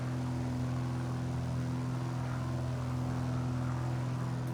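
A Piper Arrow III propeller plane in Microsoft Flight Simulator climbs after takeoff, its engine droning in a steady, loud, unbroken hum with a strong low tone and no talking.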